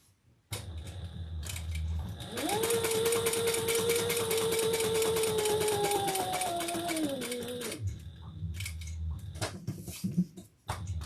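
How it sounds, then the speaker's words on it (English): A sewing machine stitches around a fabric wallet in a rapid, steady run of close mechanical clatter with a rising motor whine, lasting several seconds before stopping, followed by handling clicks and rustles. "I'm going to stitch all the way around."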